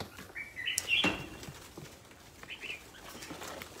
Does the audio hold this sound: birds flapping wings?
yes